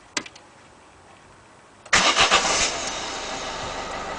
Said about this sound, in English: then I'm going to start the engine, and I should feel the power steering kick in